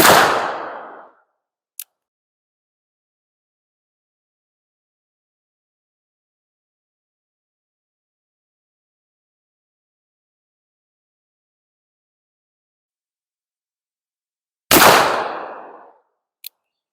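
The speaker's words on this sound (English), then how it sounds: "I'm going to be using CCI number 10 percussion caps. And I'm going to be shooting at that target." Two loud, close black powder gunshots fired with CCI number 10 percussion caps, each a sharp boom with a decaying tail, far apart in time, each followed by a faint click.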